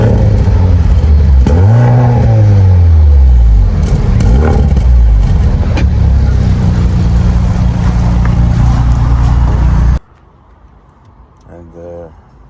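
A 2025 Mercedes-AMG C63 E Performance estate with sport exhaust mode engaged revs loudly and close, the pitch climbing and falling through several blips before cutting abruptly to near quiet with faint clicks.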